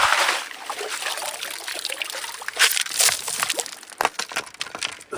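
Water trickles and sloshes in a gold pan worked in a creek at a new prospecting spot, a steady close splashing with a few sharper slops near the end.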